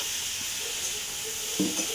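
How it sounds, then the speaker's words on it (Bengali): Fish seasoned with turmeric and salt fries in white oil in a hot wok, giving a steady close sizzling hiss with a few brief crackles and spits near the end. "কড়াইতে আমি আগে সাদা তেল দিচ্ছি,"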